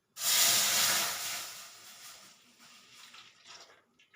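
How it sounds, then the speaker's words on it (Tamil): Milk pouring from a large tumbler into a pan. A loud, steady liquid rush starts abruptly, then slowly fades into a softer trickle and splash over about four seconds, with no talking. "பெரிய டம்ளர் நிறைய மில்க் எடுத்து வச்சு இதில் ஊற்றிடலாம்"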